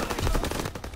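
Rapid automatic gunfire in the Call of Duty WW2 video game, Kill Confirmed on the Shipment map, a dense burst of close, loud shots in quick rhythm.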